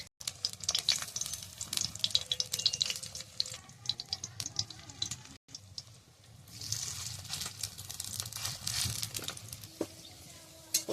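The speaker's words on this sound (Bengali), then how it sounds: "এবার আবার এই কড়াইতে তেল দিয়ে দেবো," Helencha greens fritters sizzle and crackle in hot oil in a wok over a village wood-fired stove, with a steady frying hiss and occasional stirring and clinks throughout.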